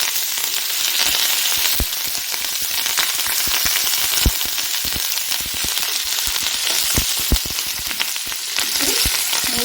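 Sesame seeds and curry leaves fry loudly in a hot pan, a dense continuous sizzle broken by frequent sharp pops and crackles.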